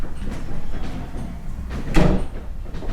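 A door in an old house museum swings shut hard and slams once about midway through, a single loud thud over a murmuring room background.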